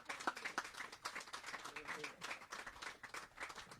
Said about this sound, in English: Give the principal a round of applause.